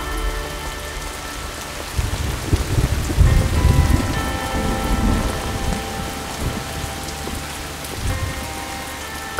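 Heavy rain pours steadily, with a low rumble of thunder swelling in the first few seconds before the downpour continues alone.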